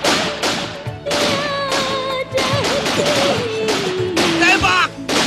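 Rapid gunfire in a dramatic police shootout, with loud bursts of shots repeating in quick clusters, mixed with shouting voices.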